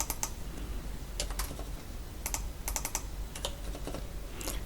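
Quiet computer keyboard typing while entering width and height values in Photoshop CC 2021, in short clustered bursts of keystrokes separated by pauses, fairly soft and close.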